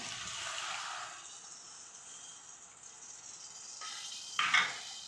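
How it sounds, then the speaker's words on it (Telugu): Tamarind juice pours into a pot of mutton curry for about a second, then softer sloshing follows, with a brief metallic clink near the end. "ఇప్పుడే చింతమండ పులుసు కూడా పోసేసుకోవాలి ఇందులోనే"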